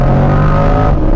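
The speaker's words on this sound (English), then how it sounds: "Traction control on, off the line, on the gas." A 2024 Corvette 2LT with traction control on launches off the line, its engine roaring loud and close in a short, sustained burst of acceleration.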